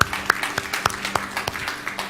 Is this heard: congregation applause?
yes